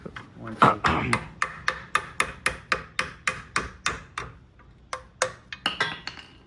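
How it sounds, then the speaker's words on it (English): Sharp metallic hammer strikes on a car subframe ring out in a steady rhythm, about a dozen and a half blows, each with a short bright ring, close and loud. "You have no idea how long I was hammering on this."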